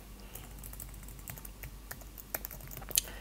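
Typing on a computer keyboard: light, scattered key clicks close by, speeding up into a few sharper taps near the end, against a quiet background hum.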